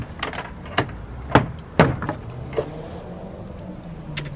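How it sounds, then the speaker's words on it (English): Plastic rear door panel on a 2006 Pontiac Vibe being popped loose with a pry tool: a few sharp, close clicks and snaps, two louder pops in the middle, then a quieter clip release near the end. "pop the door panel."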